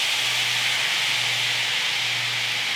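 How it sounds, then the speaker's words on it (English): Food in a pan hisses with a steady, loud, bright sizzle after stock is poured in, over a low hum, with no break and no voices. "once the bubbling, the sizzling has settled down a little bit"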